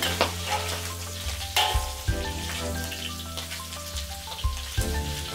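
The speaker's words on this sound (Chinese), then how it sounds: "热锅加一点底油，下五花肉和腊肉。 小火煸出油，要煸到肉表皮金黄微焦。" Pork belly and cured pork frying in hot oil in a wok, with a steady sizzle and crackle broken by a few sharp spatters and clinks of a utensil over a low hum.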